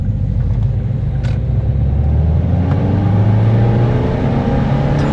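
A stage 3 tuned Ford Focus Mk2 diesel engine rumbles steadily up close, its pitch climbing as it revs, with a low continuous drone throughout.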